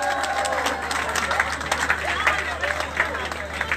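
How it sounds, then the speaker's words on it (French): Audience applause for Miss Grâce Deka at a birthday celebration for Ben Decca: steady crowd clapping and cheering with voices and babble mixed throughout, loud and continuous. "Applaudissez pour elle, s'il vous plaît."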